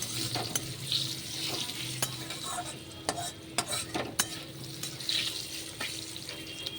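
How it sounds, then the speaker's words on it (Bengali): Mango pieces with salt fry in a pan with a soft, steady sizzle, broken by sharp clicks and scrapes of stirring and a few taps of a spoon against the pan. "একটু ভেজে নিই, তারপর সবজিগুলো দেবো।"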